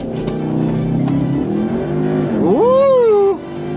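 An Audi A3 with a Stage 1 tune launches on a drag run at 91 octane, engine roaring and then climbing sharply in pitch through a rising rev sweep before cutting off.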